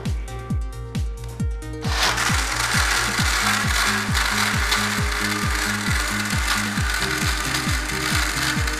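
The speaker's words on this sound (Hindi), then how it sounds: "अब इसको हम ब्लेंड करने जा रहे हैं" Electric blender churning drink ingredients: after a few quieter mechanical pulses, a loud, steady motor roar takes over, with fast rhythmic chopping pulses running underneath throughout.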